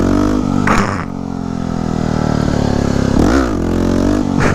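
A 2009 Yamaha WR250X supermoto revs hard through a second-gear clutch-up wheelie, its engine note climbing loud and close, easing briefly, then surging again near the end.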